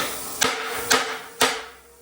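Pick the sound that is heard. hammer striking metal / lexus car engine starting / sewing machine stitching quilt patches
hammer striking metal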